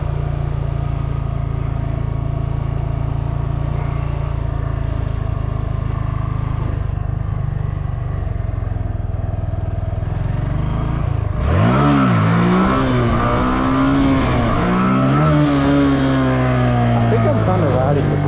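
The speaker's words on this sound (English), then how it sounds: "I was trying to slowly blip, you know, every time I got back on the throttle" A race vehicle engine idles with a low steady drone, then revs up and down in rising and falling throttle blips, loud and close, while someone talks over it.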